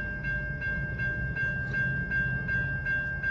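A freight train on a Metra rail line in Chicago rolls past close by, with a steady low rumble, a high sustained tonal squeal and a regular rhythmic clack of wheels over rail joints, no voices.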